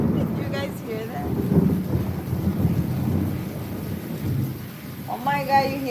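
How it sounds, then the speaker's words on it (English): Rumbling thunder rolls through a thunderstorm with rain falling steadily, a long low roar that swells and fades, while faint voices surface near the end. "there was so much thunder"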